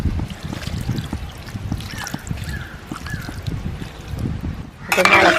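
Water is poured into a pot of beef roast cooking on a large gas burner, a close, steady trickling splash that ends in a louder rush.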